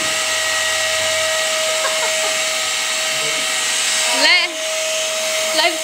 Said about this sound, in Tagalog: Talagang nag-vacuum.